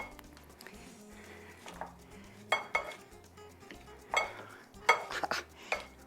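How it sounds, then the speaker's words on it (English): A spoon stirs a chicken and watermelon taco mixture in a bowl, making soft scraping and clinking sounds in irregular strokes with a few sharper taps, close and fairly quiet. "So now it's time to mix this all up."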